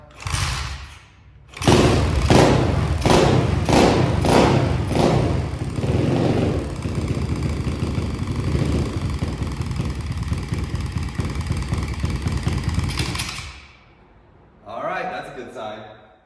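A small engine with a freshly replaced magneto stator ignition coil sputters a few times, then fires and runs steadily at a loud, even idle for about twelve seconds before cutting off, followed by a brief rattle.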